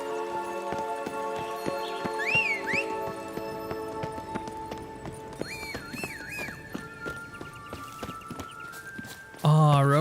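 Roach, Geralt's horse in The Witcher 3 next-gen, snorts and whinnies amid clip-clopping hooves, with game music and ambient tones running throughout; a sharp louder neigh bursts in at the very end.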